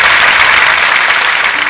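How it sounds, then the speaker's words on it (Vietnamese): Loud, dense audience applause for a female performer at a traditional chèo opera show, a continuous burst of clapping close by with no talk. "Xin hãy dành cho nữ nghệ sĩ ưu tú Thùy Linh một tràng pháo tay ạ."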